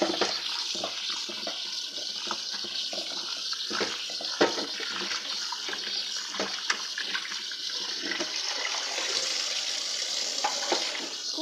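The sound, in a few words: washing chicken meat under running water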